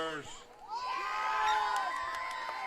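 A crowd cheering and shouting at a high school football game between Southern Prep and Snook Christian Academy, a steady roar beneath a commentator's voice.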